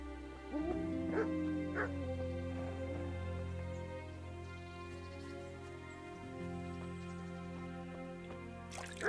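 In the medieval video game Kingdom Come: Deliverance, a dog lets out a few short barks and yips over a steady humming game soundscape, fairly faint and brief.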